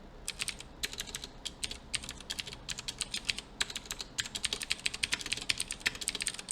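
Rapid clattering of a computer keyboard while code is typed, irregular bursts of close, crisp keystrokes that continue steadily, with no talking.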